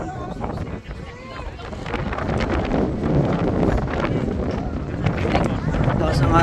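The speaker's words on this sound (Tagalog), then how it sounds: "Lakas ng hangin." Strong wind buffets the microphone at the Peak Tower's Sky Terrace in Hong Kong, a constant low roar and rumbling gusts, while a person talks briefly in Filipino over it.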